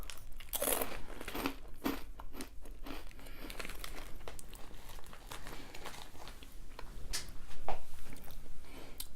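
Close, crisp crunching and chewing of a green onion flavored snack from Ukraine, with bag crinkling and rustling mixed in, a steady run of irregular bites and crackles.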